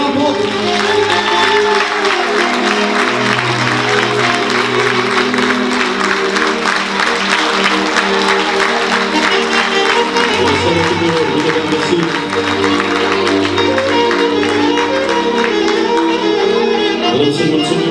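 Audience applause at a folk recital by a taraf band in Galda de Jos, a dense, sustained wash of clapping from a large crowd, with held instrumental tones ringing beneath it throughout.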